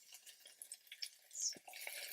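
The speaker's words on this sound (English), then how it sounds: "Hear that sizzle?" White onions sautéing in oil in a pan give a soft, steady sizzle with light crackles, punctuated by a few gentle stirring and utensil sounds close by.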